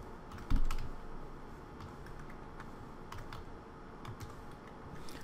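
Steady close typing on a computer keyboard, a continuous patter of light key clicks entering names into an Excel spreadsheet, opening with one louder thump, with no talking.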